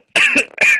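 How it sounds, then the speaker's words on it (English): A single sharp, harsh cough bursts out close to the microphone in two quick hacking pulses, loud and alone with no talk around it. "excuse me, I got cough again"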